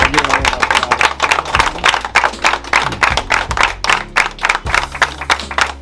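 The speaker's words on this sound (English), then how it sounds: "We say we have to give them a round of applause," A small group of people claps for builders at a new home reveal in Jamaica, loud, close, uneven hand claps in a fast irregular patter with some voices mixed in.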